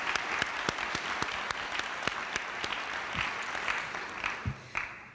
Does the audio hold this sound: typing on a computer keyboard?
no